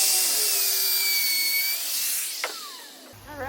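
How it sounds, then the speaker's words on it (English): A handheld router cuts a dado across a wooden board, a loud, close high-pitched whine whose pitch drifts as the bit works through the wood, then spins down at the end; no voices. "Now I can take my router and route the dado."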